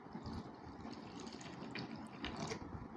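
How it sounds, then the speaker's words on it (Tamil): Water is poured into a bowl of almonds and cashews set to soak for a nuts halwa, a soft, continuous trickle and splash with faint drips, quiet and close, with no speech. "இப்போ தண்ணி ஊற்றி அப்படியே கொஞ்சம் நேரம் ஊற வைக்கலாங்க"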